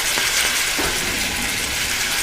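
Onion fries in a hot pan with a loud, dense, unbroken sizzle and a few faint stirring taps beneath it.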